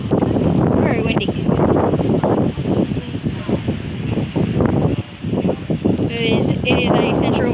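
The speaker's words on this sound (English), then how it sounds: "Very windy." Strong wind buffets a railway station platform at Broadmeadow in rain, a loud, steady rumble of wind noise across the microphone throughout, with speech-like sounds and a station announcement partly audible over it.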